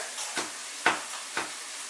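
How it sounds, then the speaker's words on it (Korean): Meat and tofu stir-fried in a pan: three short scraping stirs sound close, set over a faint, steady sizzle, with no talk. "근데 무슨 고기랑 두부 볶는데 이렇게 오래 걸려"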